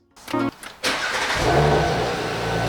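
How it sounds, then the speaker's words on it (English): Audi B9 S4 engine starting: a short starter crank with a couple of chugs, then the engine catches and settles into a loud, steady idle close by. "Give the car a start."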